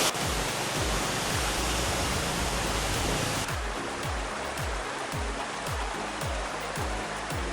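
Tamaraw Falls in Puerto Galera, Oriental Mindoro, roaring as a broad, constant rush of falling water, loud and close, with a low rhythmic thumping under the hiss and no voices.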